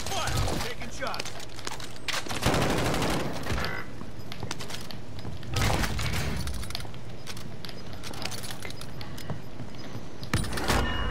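Gunfire in Call of Duty Warzone during a Rebirth Island quads match: dense bursts of rapid shots and crackling impacts fill the stretch loudly, surging in several heavy volleys, with a voice talking briefly over the action.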